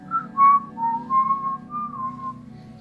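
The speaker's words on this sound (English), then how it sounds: "Someone is whistling a tune that they have in their head." A single person whistles a slow, wavering tune, close and clear, with no other sounds around it.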